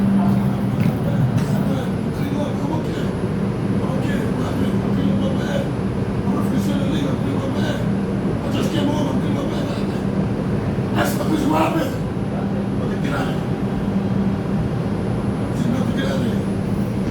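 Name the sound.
inside a moving subway train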